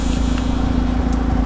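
A Mazda RX-8 rotary engine runs in a steady, loud, continuous drone with a strong low rumble and no clear rise or fall in pitch over a short stretch, close by and alone.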